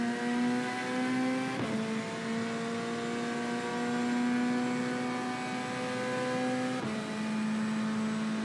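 A race car engine in a sim racing game laps Watkins Glen, holding a steady, high whining drone with two brief dips where the gears shift, no voices over it.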